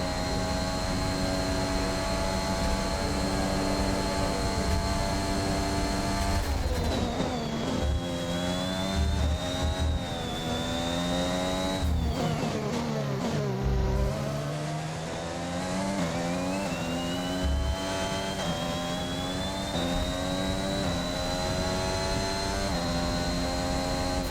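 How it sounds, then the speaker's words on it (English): A Formula 1 car engine in the F1 21 racing game screams continuously through a qualifying lap at Portugal, its high whining pitch climbing through gears and dipping sharply under braking before revving back up. "we're going to make use of these tires that we have for qualifying, see if we can improve our time"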